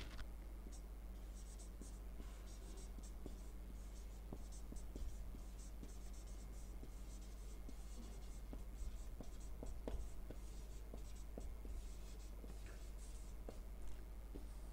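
Chalk or marker writing on a classroom board during a history lecture, faint scratchy strokes and light taps over a steady low hum, with soft speech in the background.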